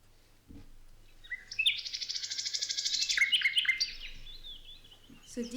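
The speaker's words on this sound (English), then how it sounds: "this fantastic video is called A Nightingale and Canary Bird Sounds" Nightingale and canary song: quiet start, then a loud, rapid trilling run of bright chirps and whistles, followed by a softer sustained whistle and a final short call.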